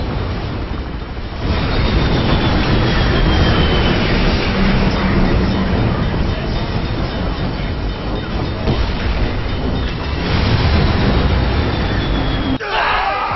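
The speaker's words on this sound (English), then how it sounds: "Warning, train coming through." In the video game Bulletstorm, a train roars past loud and close, a heavy rumbling rush with grinding metallic overtones that swells after a second and holds for over ten seconds before cutting off.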